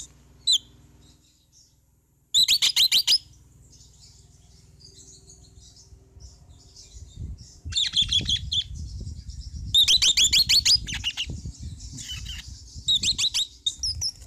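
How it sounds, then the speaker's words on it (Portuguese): Pet red-rumped parrots give bright, close chirps and squawks in several short bursts separated by quiet gaps, with a low background rumble. "olha aí, essas maravilhas que são os Red Ramped"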